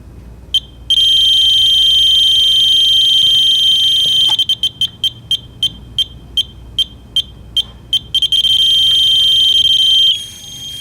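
Photo eye transmitter beeper signaling strength, a loud, high-pitched continuous tone that breaks into a rapid series of short, evenly spaced beeps before returning to a steady tone, close up with no talking.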